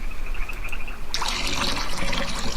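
Water trickling and pouring as a tile is filled in the video game Wurm Unlimited, beginning partway through as a bright, steady watery splash over a low background hum.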